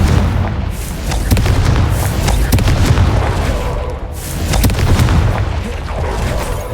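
Repeated booming blasts from a Confringo fire spell in the Hogwarts Legacy video game, loud and dense bursts rolling over a constant low rumble with no talk.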